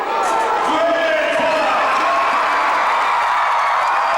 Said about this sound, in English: The crowd cheering the king of the monster trucks, Bigfoot.